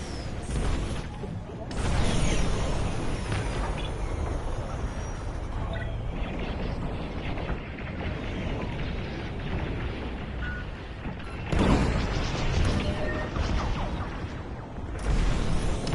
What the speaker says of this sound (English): Missiles away.